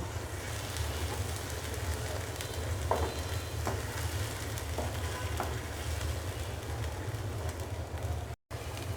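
Fried onion, whole garam masala and salt frying in a pan give a continuous sizzle over a low rumbling hum, with a few faint stirring clicks scattered through.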